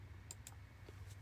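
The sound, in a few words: computer keyboard typing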